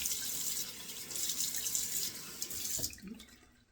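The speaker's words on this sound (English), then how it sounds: "Let me 2 more splashes of cold water to rinse it off here now." Cold tap water runs into a sink and is splashed onto the face to rinse after shaving, a close, steady wash of splashing that stops abruptly near the end.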